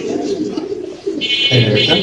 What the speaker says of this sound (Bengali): এটা একটা সিল্কি ফ্যান্টেল কবুতর।